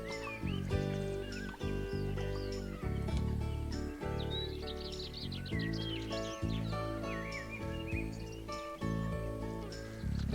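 Moorhen chicks, newly hatched, calling while an older juvenile sibling feeds them, over a busy layered background of steady harmonic sound and repeated short calls, continuous and fairly loud throughout.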